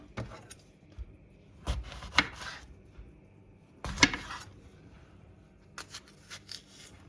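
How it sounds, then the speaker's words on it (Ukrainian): A knife cuts half a kilogram of apples into pieces on a board, with a few sharp chopping knocks in separate bursts and short scraping strokes between them, close and fairly quiet, with no talking. "І ріжемо такими шматочками"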